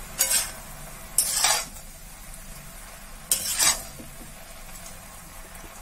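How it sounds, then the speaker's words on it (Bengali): Onion, garlic, green chilli and chana dal fry in a pan with a constant sizzle, punctuated by three bursts of scraping stirring from a spatula, close and clear with no talking. "চানা ডাল এগুলোকে একটু লাল লাল করে ভাজতে হবে, তাহলে খেতে ভালো লাগবে।"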